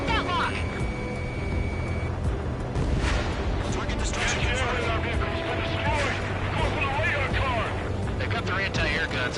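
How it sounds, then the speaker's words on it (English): Steady barrage of anti-aircraft gunfire and explosions in the Ace Combat 7 video game, dense and continuous throughout, with radio voices talking over the battle. "Anti-air guns aimed right at us."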